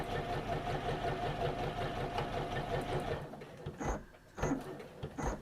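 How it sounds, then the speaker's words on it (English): A sewing machine top stitches around the window of a layered fabric luggage tag, running in a fast steady mechanical whir for about three seconds before stopping, with a few short clicks and bursts afterward. "we're just going around that window just to hold those layers down"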